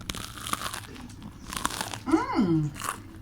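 Crunchy fried pickles from Popeyes bitten into, giving a brief close crunch and crackle with light chewing, among soft murmured sounds.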